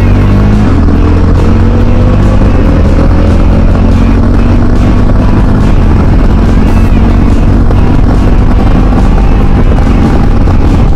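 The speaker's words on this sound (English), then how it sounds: "let me demonstrate how to use the Quick Shifter right now" A KTM 390 Adventure motorcycle rides at speed, its engine loud and droning with pitch sweeping up through the gears as the quick shifter clicks through changes, heavy wind rush buffeting the microphone throughout.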